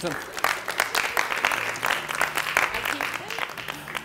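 An audience claps enthusiastically, a dense burst of applause lasting a few seconds.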